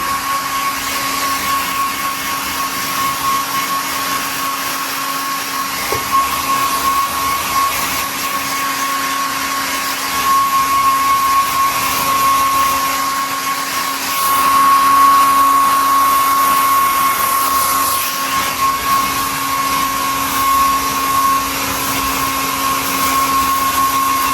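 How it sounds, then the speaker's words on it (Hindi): A hair dryer drying dogs after a bath, a loud, steady whine and rush of air that runs without a break, swelling slightly as the dryer moves, with no talking. "दूर रखेंगे ड्रायर को और इनको सुखाएंगे"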